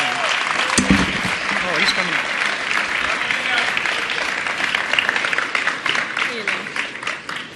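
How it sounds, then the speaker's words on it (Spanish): Audience applause fills a Latin Grammy awards ceremony hall, a loud, steady wash of many hands clapping for the whole span, with a voice talking over it near the start. "Fuerte el aplauso para Marcos Witt."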